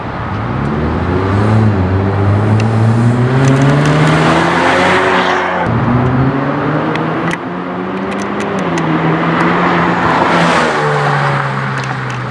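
A car with a custom American Muscle exhaust revving hard and loud, rising and falling engine pitch in repeated sweeps, close and continuous, with a brief tire-squeal edge.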